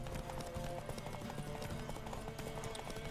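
Horse hooves gallop in The Witcher 3, a fast, steady clip-clop rhythm running continuously under a busy game mix at modest level.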